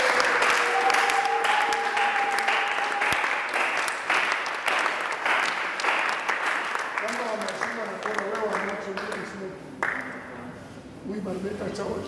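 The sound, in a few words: church congregation applauding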